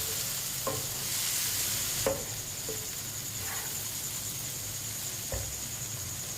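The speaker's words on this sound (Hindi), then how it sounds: "अब इसे 2 मिनट के लिए ऐसे ही चम्मच चलाते हुए पका लेते हैं।" A spoon stirs dal with bhindi (okra) and spices cooking in a pot, giving a few sparse scrapes and knocks over a constant soft simmering hiss.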